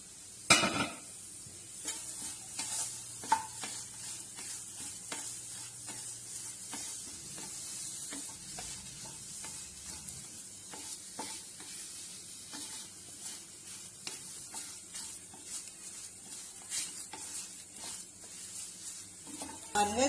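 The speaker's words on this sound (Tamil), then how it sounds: "இப்போ இந்த கருவேப்பிலையும் போடுறேன். இது நல்லா மொறுன்னு வர்ற வரைக்கும் வறுக்கணும்." Curry leaves roasting in a pan for homemade sambar powder, with a steady low sizzle broken by frequent sharp crackles and stirring scrapes, fairly faint and with no talking throughout.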